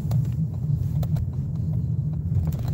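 Steady low rumble of a car driving, heard from inside the cabin, a constant road and engine drone with faint ticks and no voices.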